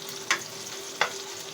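Beaten egg frying in a pan for ginisang ampalaya, a steady close sizzle with two brief sharp crackles or stirs standing out.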